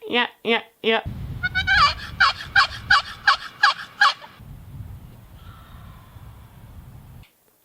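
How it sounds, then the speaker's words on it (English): A wild turkey gobbles back at a box call during a morning hunt, a string of loud, rapid rattling gobbles from fairly close, with a sharp yelping call before it and a softer, more distant gobble near the end. "He gobbles. He gobbles right back."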